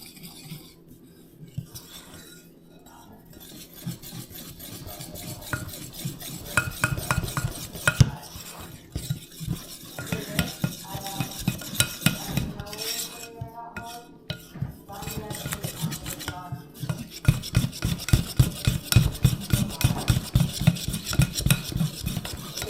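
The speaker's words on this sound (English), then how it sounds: "And we're going to whisk this together." A whisk beats breakfast batter with vanilla in a bowl, rapid rhythmic clicking and scraping that grows faster and louder toward the end, with no talking.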